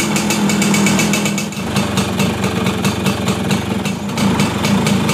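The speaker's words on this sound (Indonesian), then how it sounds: "Kita tes posisi mesin hidup." A motorcycle engine idles steadily during a charging-system test for a battery that will not charge, with a loud, close, rapid mechanical chatter that continues without a break.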